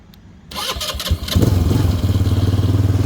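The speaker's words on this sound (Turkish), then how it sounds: "Dediğim gibi bir yandan da marşa basmanız gerekiyor." A Kuba MX220 200cc off-road ATV is cranked on its electric starter. After a quiet start the starter churns briefly, then the engine catches and settles into a loud, steady, close idle.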